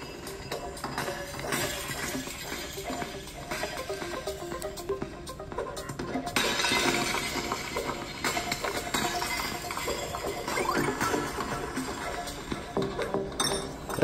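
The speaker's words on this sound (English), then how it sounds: "Just hitting a bunch of glass" Glass panes shattering in the mobile game Smash Hit, a steady run of bright clinks and crashes over game music, with a denser burst of breaking partway through.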